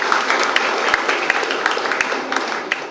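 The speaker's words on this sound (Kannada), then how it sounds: "ವಾಣಿ ಆಳುವ ಮತ್ತು ರೋಹಿನಾಥ್ ಅವರಿಗೆ ಒಂದು ಚಪ್ಪಾಳೆ ಕೊಡಿ ಒಂದು" A crowd at a health check-up event in Ullal applauds for municipal commissioner Vani Alva and Rohinath: loud, dense clapping that carries on evenly for about three seconds, with individual sharp claps standing out.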